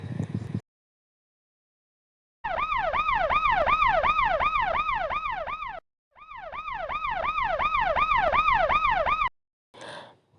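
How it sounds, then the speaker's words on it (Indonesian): A loud ambulance siren wails, cycling rapidly up and down in two long bursts separated by a short silence, close and unbroken. "pernahkah kalian mendengar sirine mobil ambulans?"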